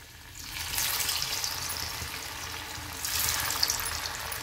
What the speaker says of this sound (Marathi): तर आता आपण थोड्याशा तेलामध्ये याला तळून घेणार आहे।